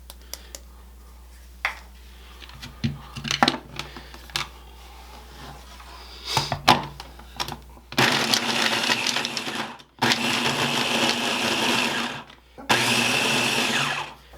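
A food processor pulses butter and flour with orange zest for mini mince pie pastry. Quieter handling and brief talk lead into three loud, whirring motor bursts separated by short pauses.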